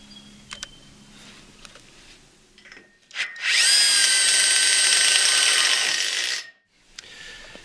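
A power drill drives a screw through an L bracket during high tunnel construction, a loud, steady whine lasting about three seconds after a few faint knocks, then stopping abruptly.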